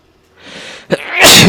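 A loud, close sneeze with a brief drawn-in breath, a sharp catch, then a forceful explosive burst at the end.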